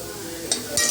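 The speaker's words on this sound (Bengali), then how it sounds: "পেঁয়াজগুলো একটু ভেজে নিয়েছি আর একটু ভাজবো লাল লাল করে" Onions sizzle softly in a frying pan, with a quiet stirring scrape and two brief bright bursts of crackle over low steady frying noise.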